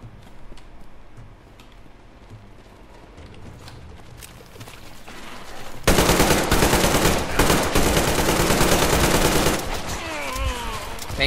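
Gunfire in the video game Metro Exodus: rapid bursts of automatic shots, sparse at first, then a loud sustained barrage of close, overlapping fire, with faint game sounds mixed in.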